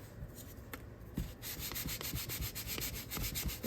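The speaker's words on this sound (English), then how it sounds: "with the grain, give it a light sanding" Wooden parts of an Estes Orange Bullet model rocket kit get a light sanding with the grain using 150 grit sandpaper, making close, rhythmic scratchy strokes that speed up into a quick, steady back-and-forth rasp.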